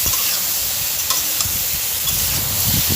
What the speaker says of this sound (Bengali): নিয়ে লবণ আর হলুদ দিয়ে হালকা করে আমি ভেজে নেব গ্যাসটা সিলিংয়ে দিয়ে